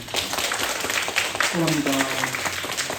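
A church congregation applauds to welcome a first-time visitor, a dense wash of clapping from many hands filling the room, while a voice speaks over it.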